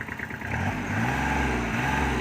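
Kubota L3408 tractor with a diesel engine idling steadily nearby, a continuous low throbbing drone that settles into an even running tone, with no talk.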